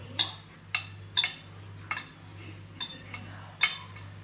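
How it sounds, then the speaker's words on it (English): A spoon scrapes Jamaican pumpkin cake batter from a bowl in a home kitchen, giving about eight sharp, separate clinks and scrapes at a steady pace, close and moderately quiet over a low steady hum. "use the spoon and scrape it out"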